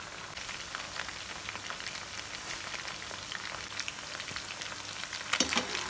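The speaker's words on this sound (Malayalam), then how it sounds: "നമ്മുടെ ചിക്കൻ്റെ ഫസ്റ്റ് ട്രിപ്പ് ഫ്രൈ ആയിട്ടുണ്ട്" Chicken 65 deep-fries in hot coconut oil with a continuous crackling sizzle and scattered pops, swelling into a louder, busier burst near the end.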